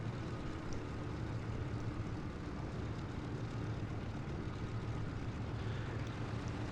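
DC-3 propeller engines idle in a flight simulator game, a steady, dense low drone that holds evenly throughout with no voices.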